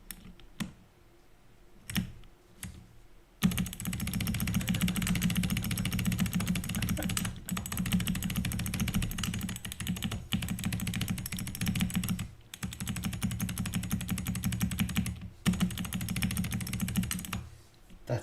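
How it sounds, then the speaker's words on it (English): Rapid, steady typing on a computer keyboard fitted with a metal spacebar, dense clacking keystrokes running continuously for most of the stretch after a few isolated presses at the start, close and fairly loud with brief pauses. "Plastic spacebar. Oh! Metal spacebar."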